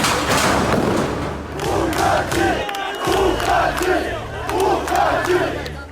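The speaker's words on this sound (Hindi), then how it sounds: "अब लोगों का शोर सुनिए।" A large crowd of protesters fills Beirut streets at night, shouting and chanting together in loud rhythmic bursts, with a dull thud partway through and roaring voices swelling around it.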